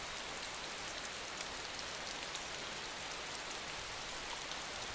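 Steady rain from the survival video game DayZ, a dense, even hiss of falling drops with no voices, continuous and moderately quiet throughout.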